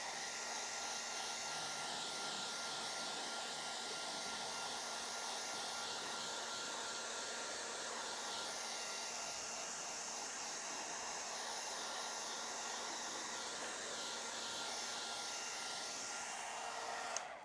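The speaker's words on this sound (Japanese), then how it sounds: "じゃあドライヤーで、 はい、 わーっと乾かしてください。" A hair dryer blows steadily over a freshly made pencil drawing, a constant close, even roar that holds for the whole stretch and cuts off at the end.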